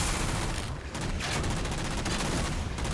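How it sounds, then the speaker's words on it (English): Gunfire in the video game Halo 4 is a dense, continuous volley of loud, rapid shots and booms that fills the whole stretch without a break. "Feel the wrath of my mighty gun."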